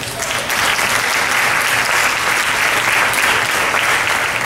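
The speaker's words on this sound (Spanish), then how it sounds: "Denle un aplauso a Jesús" A church congregation breaks into steady, dense applause that fills the whole stretch at close range, with no voices rising above the clapping.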